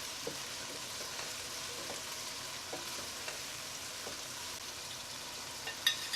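Chili flakes and salt being stirred into a pot of food frying over the heat, a soft steady sizzle with a few faint scrapes and clinks of the spoon against the pot.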